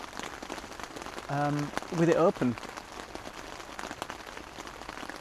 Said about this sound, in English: just listening to the rain hit the fly sheet